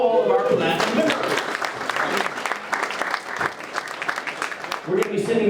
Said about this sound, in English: Please a round of applause for all of our platinum members.